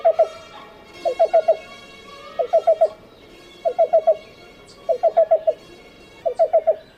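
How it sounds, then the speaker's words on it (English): A black-billed cuckoo repeats its call in short rhythmic bursts of three or four quick, hollow notes, six series spaced about a second apart, clear and fairly close over faint background birdsong. "Here's the sound of the black-billed cuckoo."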